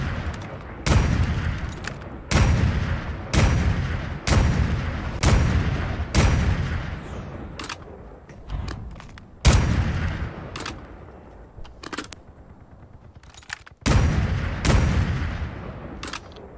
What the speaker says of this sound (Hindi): आवाज क्या कर दी एक्सपीआर की, ऐसा लग रहा है कोई बहुत महंगी स्नाइपर चल रही हो।